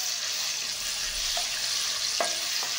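Ginger garlic paste frying in oil in a kadai makes a quiet, even hiss and faint crackle, with a couple of brief clinks from a spoon near the end.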